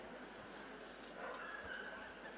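A pointer at an indoor kennel club dog show gives faint, brief yips and barks, muffled under a steady hall murmur and distant crowd noise.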